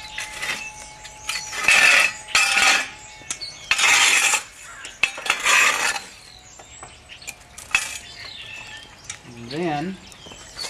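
Metal rake scraping and pushing hot coals across the brick floor of a Forno Bravo wood-fired oven, several loud raspy strokes in bursts, then quieter scuffs.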